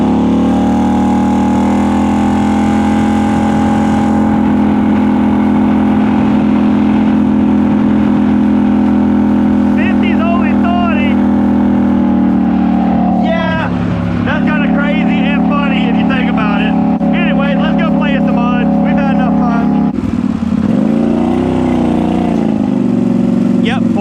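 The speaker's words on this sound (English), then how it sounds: "Whenever you let go of the gas, you hear that? It idles way down." A Polaris Sportsman 850 Highlifter ATV on 32-inch Assassinator tires runs loud and steady up close, its engine drone dropping lower around the middle and again near the end as the throttle is released and it idles down.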